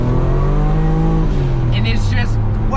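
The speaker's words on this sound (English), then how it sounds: "I'll floor it right now." A modified car, referred to as Red Ted, with a rebuilt transmission, its engine droning loud and steady under full throttle on a street, the pitch sliding as it pulls, with a brief higher squeal near the end.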